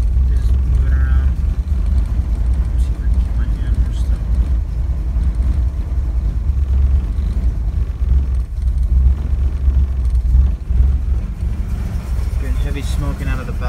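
A struggling Porsche engine with a bad fuel-pressure fault runs rough and misfires, close up and steady, its low rumble sagging and near stalling while smoke pours from the back.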